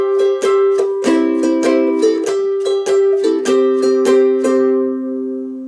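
A ukulele strums the opening two bars of the middle line of a twelve-bar blues, with a steady, bright, evenly spaced chord rhythm whose ringing notes fade out at the end, and no voice over it.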